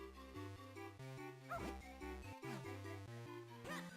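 Cartoonish yips and bow-wows from a dog in the Game Boy Advance game Zelda: Minish Cap, several short bright barks scattered over looping chiptune background music.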